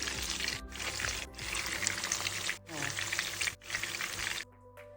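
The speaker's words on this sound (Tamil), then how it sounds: "மிதமான சூட்டில் நம்ம இதை அழகாக வறுத்து எடுக்கலாம்." Chicken keema balls fry in oil over medium heat for an Afghani malai chicken gravy. The close, bubbling sizzle comes in bursts, broken by short silent gaps, and a faint voice sits underneath.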